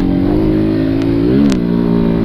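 Honda Fan motorcycle engine revving hard under load while trying to climb without the clutch, a loud steady droning hum with pitch rising and bending in two brief surges, no talking.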